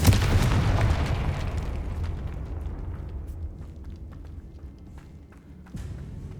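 A Confringo blasting spell explodes in Hogwarts Legacy inside a crypt with an altar and bones: a loud, dense boom at the start that slowly decays into a rumbling tail, then a second low thud near the end.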